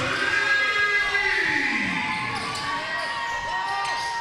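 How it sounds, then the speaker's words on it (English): Crowd cheering erupts in a high school basketball gym after a made corner shot in a Heritage Hawks vs. Shoreline Christian Chargers game, a loud, sustained roar of voices with shouts over the din. "Crowd erupts."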